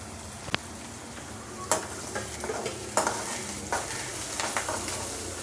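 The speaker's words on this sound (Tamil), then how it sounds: "இதுக்கு கருவேப்பிலையும் பச்சை மிளகாவும் போட்டுடலாம்." Curry leaves and green chillies crackle and sizzle in hot oil for an egg poriyal, a steady frying hiss punctuated by sharp spitting pops and occasional stirring clinks.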